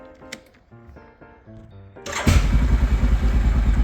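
A quad bike engine cranks and fires up after a couple of seconds of quieter tonal sounds, then runs loud and steady close by, with no talking over it.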